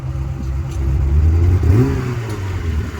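A classic Ferrari engine revs up and settles at a vintage vehicle event in Scotland, loud and close, its pitch climbing in one surge then easing back to a throaty idle, with no talk.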